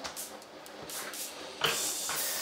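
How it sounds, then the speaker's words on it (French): Steady patter of rain on a roof window overhead, a soft continuous hiss that swells louder partway through, with no voices. "la pluie qui tombe sur le Velux ne va pas trop gâcher la qualité de la vidéo"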